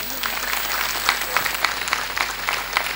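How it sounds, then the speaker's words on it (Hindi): A group claps in applause during a yoga class, a steady patter of many hands with scattered louder claps, fairly close. "कोई बात, कर दीजिए तालियां।"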